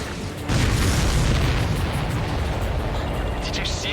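A missile strike explodes in the Ace Combat 7 flight game, a sudden deep boom that rolls into a long rumbling roar under continuous jet and battle noise.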